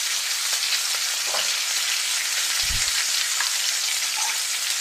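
Curry leaves sizzle in hot oil in a pan for a beetroot fry, a bright crackling hiss that runs steadily throughout, with a single low knock partway through.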